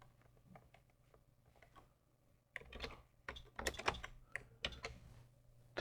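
Keys clatter on the keyboard of a 1980 Texas Instruments TMS processor development board, starting with faint scattered taps and turning into a brisk, close burst of uneven keystrokes, with no talking.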